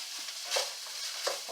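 Fresh onions sauté in a pan with a soft, steady sizzle. Two brief brighter bursts from stirring rise out of it, heard close and fairly quiet with no talking.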